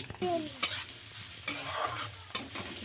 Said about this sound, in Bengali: এই ডালগুলো একটু ভাজা ভাজা হবে